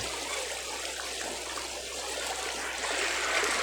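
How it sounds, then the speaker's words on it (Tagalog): A strong river current rushes steadily in a continuous, full broadband wash of flowing water that stays loud and even throughout. "Ang lakas ng agos dito tayo."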